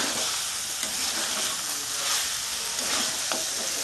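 Mutton and tomato sautéing in a pan for a Bengali-style mutton curry, a steady broadband sizzle with occasional scraping stirs, close and continuous with no talking.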